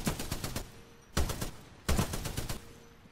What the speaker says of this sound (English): This gun shoots fast, it's gonna hit fast.